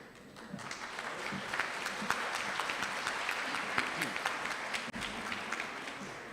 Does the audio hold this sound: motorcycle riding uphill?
no